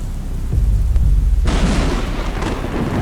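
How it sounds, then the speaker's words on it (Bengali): A sudden heavy crack of thunder bursts in at mid-clip, loud and broad, rolling on over steady heavy rain. "হঠাৎ করেই একটা প্রকাণ্ড বজ্রপাত হলো।"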